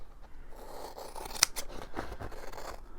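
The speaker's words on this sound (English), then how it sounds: "So I'll just trim it down with the scissors initially" Scissors trim fabric at close range, making quiet crunchy snips with one sharp cut standing out, set against a soft room background.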